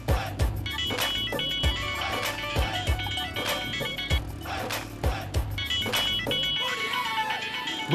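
A mobile phone rings with a repeating bright electronic ringtone melody over a steady pulsing beat, close and fairly loud, in a French-language drama scene.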